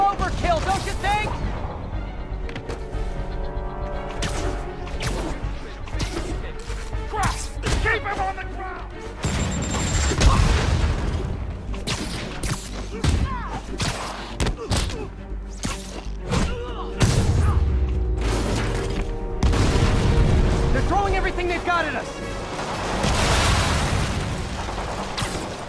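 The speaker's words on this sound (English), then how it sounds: "Rockets! Take cover!" Rockets explode in a Spider-Man video game as a run of heavy booms and crashing blasts, some louder than others and spread irregularly over the span, with voices speaking between and over the explosions.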